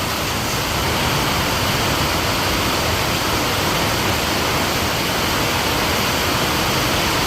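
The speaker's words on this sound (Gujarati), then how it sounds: "કન્ટિન્યુ ચાલુ જ છે, દરેડા પડે છે જો, અને વરસાદ બી ગાજે છે।" Heavy rain pours nonstop onto a terrace roof with a metal sheet overhead, a dense, steady roar of water close by with no pauses or voices.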